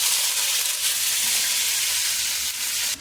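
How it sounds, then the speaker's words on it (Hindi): Spices sizzle loudly in hot oil as a baghar for kadhi, with chillies, curry leaves and cumin crackling in a steady, close, continuous hiss with no talking. "ये देखिए बघार रहे हैं।"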